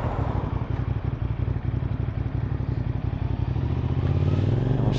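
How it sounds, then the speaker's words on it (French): A CFMOTO SR450 motorcycle's exhaust chugs with a steady, low, throbbing beat at close range. It swells slightly louder near the end and no one speaks. "écoutez-moi ce petit bruit à l'échappement"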